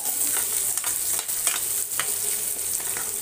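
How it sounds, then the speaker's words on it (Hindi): Chopped onion sizzles steadily in hot oil with cumin in a kadhai, a continuous bright frying crackle with occasional stirring scrapes, close and fairly loud. "कढ़ाई में तेल डाल दिया है मैंने, जीरा डाल दिया है इसमें, और एक प्याज पूरा कट कर लिया है, प्याज इसको इसमें डाल देती हूँ"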